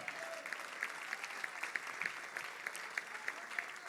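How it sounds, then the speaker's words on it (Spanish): A church congregation claps in praise, a sustained round of rhythmic, fairly even applause from many hands with a faint voice underneath. "¿Cuántos brindan palmas de alabanza al Señor?"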